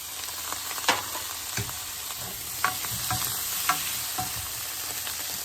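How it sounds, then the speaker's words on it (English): Tomato pieces sizzle and fry in a pan for chutney, a constant hiss broken by occasional scrapes and taps as they are stirred, close and steady with no talking. "Try and roast from the bottom side, the skin side."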